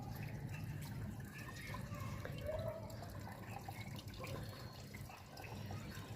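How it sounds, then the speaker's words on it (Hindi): Water poured off a setting multani mitti (fuller's earth) paste, a soft, faint trickle and splash under a steady background hiss, with a brief drip-like tone midway. "ये देखिए इसके ऊपर एक जो लेयर आ जाती है ना इसको रिमूव कर देना पानी को फेंक कर।"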